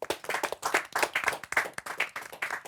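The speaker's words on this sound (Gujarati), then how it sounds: "એક વખત જોરદાર તાળીઓ" Audience applause breaking out at a film discussion event, dense overlapping clapping sustained throughout, moderately loud and fairly close, with no talking over it.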